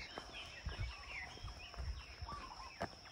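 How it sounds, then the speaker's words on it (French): Several birds chirp and call at once in a lively outdoor chorus near the Haiku Stairs trail entrance in Hawaii, with faint rustling and footsteps underneath. "Je sais pas si vous pouvez entendre tous les oiseaux"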